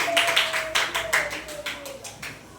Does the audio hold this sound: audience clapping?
yes